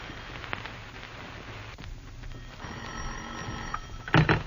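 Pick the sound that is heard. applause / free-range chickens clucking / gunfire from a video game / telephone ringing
telephone ringing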